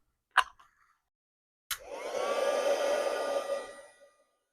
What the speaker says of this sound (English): So I'm going to heat emboss those